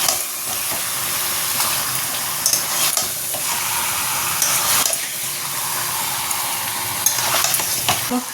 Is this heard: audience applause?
no